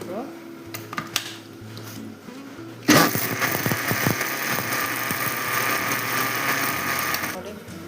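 A mixer grinder grinds masala with a little water for Udupi hotel-style Mangalore cucumber huli. Quiet kitchen clatter comes first, then the motor starts abruptly and runs with a loud, steady whirring roar until it cuts off near the end.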